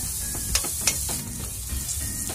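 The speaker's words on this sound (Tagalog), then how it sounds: "pag mainit na yung mantika, maglagay ng bawang. Igisa lang natin siya hanggang mag-brown ng konti." Chopped garlic sautés in hot cooking oil for spicy eggplant, giving a steady close sizzle with a few brief crackles and pops.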